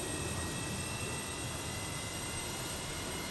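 Airplane engines starting up, heard as a steady, dense roar with faint high whining tones held throughout, constant and fairly loud with no voices.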